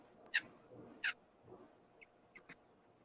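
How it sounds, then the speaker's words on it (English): Local birds calling outdoors, a few short sharp chirps and squawks scattered among quiet background noise, moderately near and without talk. "Probably hear a few of the local birds having a bit of a chirp around here too."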